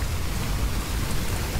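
Steady heavy rainfall in the Choo-Choo Charles video game, a dense continuous hiss of rain with low rumbling underneath, loud and unbroken.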